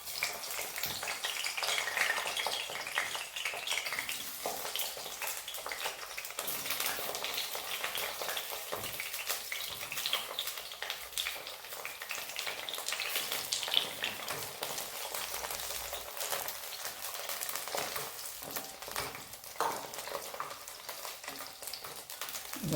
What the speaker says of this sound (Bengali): তো এখানে আমি সর্ষের তেল আমি দিয়ে দিয়েছি, দিয়ে একটু গরম হয়েছে। গরম হয়েছে। এবার প্রথমে আমি একটু বেগুনটাকে ভেজে নেব।